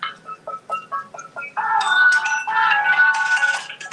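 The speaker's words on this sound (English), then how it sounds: "Who can it be calling at my phone?" A phone ringtone plays clearly on its own, a run of short repeated electronic beeps that gives way to a longer, fuller chiming melody.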